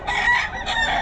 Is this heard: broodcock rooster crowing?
yes